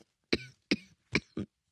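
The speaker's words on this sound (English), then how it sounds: "I had a cough" Four short dry coughs, evenly spaced and close by, each a quick harsh burst followed by silence, with no talking.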